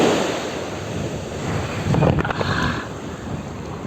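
Steady wind roaring across a microphone by the sea, with a broad wash of surf-like noise that swells slightly midway, no voices.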